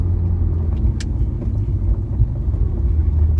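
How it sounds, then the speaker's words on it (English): A 2008 Porsche 997 GT3 with its 415-horsepower Metzger flat-six drives past close by, giving a deep, steady engine rumble throughout. "This engine is so tuned, its sound is glorious."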